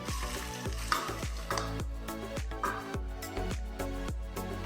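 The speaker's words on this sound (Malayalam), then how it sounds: "ചൂടായ വെളിച്ചെണ്ണയിലേക്ക് ഞാൻ നേരത്തെ ചെറുതായിട്ട് അരിഞ്ഞു വെച്ച ഇഞ്ചി ചേർത്ത് കൊടുക്കുന്നു" Chopped ginger frying in hot coconut oil, a steady crackling sizzle broken by repeated sharp clanks of a spoon stirring against the pan, close and alone.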